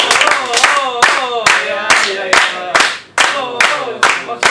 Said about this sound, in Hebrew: תבח שמו, מגיע לו כפיים.